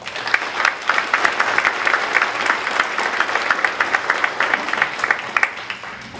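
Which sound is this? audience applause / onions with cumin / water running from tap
audience applause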